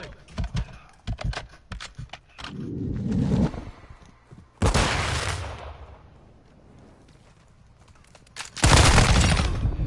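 Gunfire in a multiplayer shooter video game, with rapid shot bursts early on followed by two loud blasts with decaying noise tails, mixed over game sounds.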